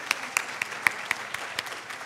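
Sparse, scattered claps from a keynote audience at a family weekend event, a handful of distinct hand claps spread over two seconds, fairly faint and thin rather than a full ovation.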